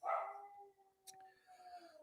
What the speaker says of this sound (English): No, that's our dog barking.